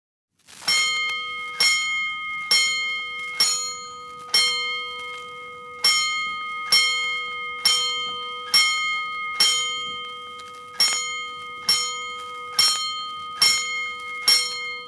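Fire alarm bells for a five-alarm call in a radio drama, a loud metallic bell struck repeatedly in a steady rhythm, each ringing strike decaying before the next, with no talking.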